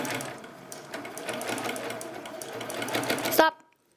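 A sewing machine runs continuously at close range, stitching binding on a small quilted tic-tac-toe game board, its rapid needle chatter building slightly before stopping abruptly, leaving silence.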